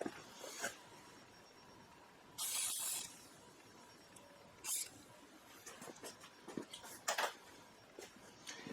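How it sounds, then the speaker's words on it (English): Short hissing bursts of an aerosol can of penetrating oil sprayed on a Honda TRX300 ATV, one longer spray followed by a couple of brief ones, with faint handling noises between. "Let's spray that down a little bit."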